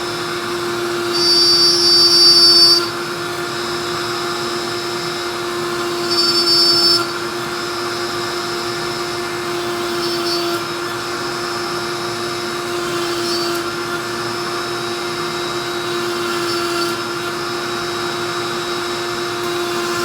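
A power saw running a box joint jig through cherry and walnut whines in a steady drone, loud and sustained, with brief louder surges as the blade bites into the wood.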